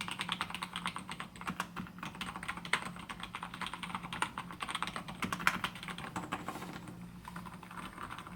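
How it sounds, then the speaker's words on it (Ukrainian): Steady typing on an MSI Strike 600 mechanical keyboard with quiet Kailh Midnight Pro switches, soft, muted rapid key clicks continuing throughout at low volume with no speech. "Це майже безшумна клавіатура серед механічних моделей"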